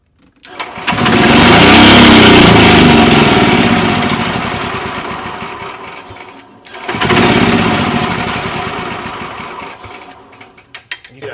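A small golf cart engine cranks on the starter and runs loudly for a few seconds, dies down, then cranks again with a rattling, mechanical drone.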